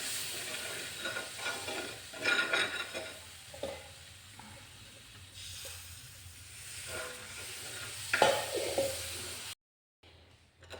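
A spoon scrapes and stirs a thick cleaning mixture with water on a hot iron griddle, with soft sizzling and irregular scraping strokes, fairly quiet and close.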